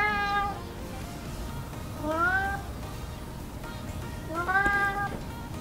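A male Ragdoll cat in a barn meows three times, drawn-out and clear, with pauses between each call over a low background hum.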